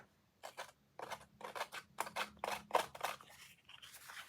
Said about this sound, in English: Let's see what I do with the scissors here.